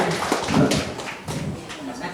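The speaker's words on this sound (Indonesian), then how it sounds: "Tepuk tangan meriah untuk Mbak Fitri ya" Audience applause for a student poetry reader at a school language-month reading contest, a loose patter of hand claps mixed with crowd voices and an emcee talking over it throughout.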